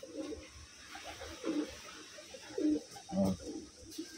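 Wantai pigeons kept at a home loft coo in low, throaty bursts, about five separate calls repeating at close range with quiet gaps between them.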